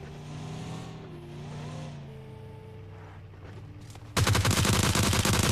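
Battle royale video game audio: soft background tones give way to a sudden, loud, continuous burst of rapid automatic gunfire that runs to the end.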